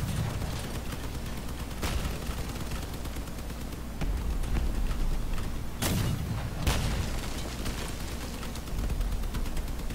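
Explosions and gunfire in the vehicular combat game Crossout, with heavy booms and bursts of shots over a continuous loud rumble of battle, including sharp blasts around the middle of the scene.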